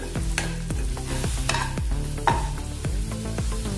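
Grated ginger roasts in a pan, with steady frying noise and a regular series of stirring scrapes over a sustained low tonal hum, close and fairly loud with no talking.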